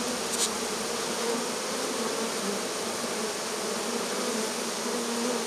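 Honey bees swarm around an open hive during a queen-marking inspection, a dense, steady close buzz filling the air with no talk.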